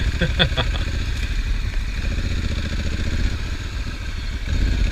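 A Honda Africa Twin motorcycle pushing through deep water on a Mount Hood adventure ride, its engine rumbling steadily with a broad wash of splashing and rushing noise, close and loud throughout.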